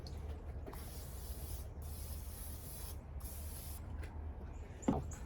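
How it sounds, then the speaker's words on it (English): Cooking spray hisses steadily into a bowl being readied for hypertufa cement, a continuous airy spray broken by a few short pauses, fairly quiet and close, with a small knock near the end. "I'm gonna spray it with cooking spray so I can get the cement out when it's ready."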